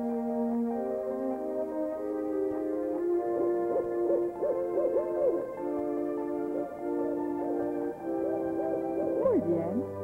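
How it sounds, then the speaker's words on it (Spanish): Cartoon owl hooting in a children's program about the seasons, repeated gliding hoots over a sustained musical backdrop, steady and moderately loud throughout with no talking. "Muy bien, un búho."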